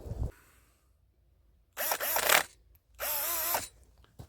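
Power drill boring vertical drain holes into the ground, two separate bursts of whining motor and grinding, each under a second long, close and fairly loud with quiet gaps between.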